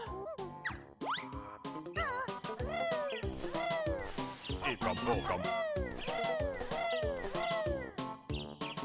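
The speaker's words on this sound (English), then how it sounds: "the noise is going to be pretty constant through this run, so I hope you enjoy bird noises" Chirpy, squawking bird calls from the Banjo-Kazooie video game repeat in a dense, steady stream under game music, loud and constant throughout.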